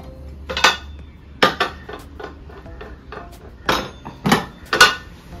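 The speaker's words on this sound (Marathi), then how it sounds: "तव्याचेर दवरता." A cooking pot of Goan peas pulav is set down on a metal tawa griddle, giving a run of metallic knocks and clatters scattered over several seconds, close by and without any speech.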